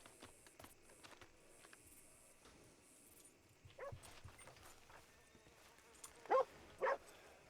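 Several dogs bark and yip at a distance in a video game town, scattered across the scene, with two louder close barks near the end over a quiet ambient hum.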